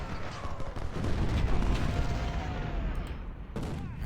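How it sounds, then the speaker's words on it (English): Artillery firing in the video game Ultimate General: Civil War, heard as a dense rumbling barrage of booms and crackling shots rolling through a few seconds, loud and close. "Starting to fire on my artillery now."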